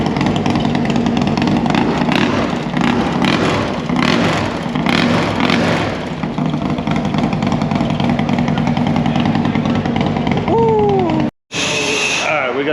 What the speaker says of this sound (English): this Chromeworks Outlaw exhaust sounds amazing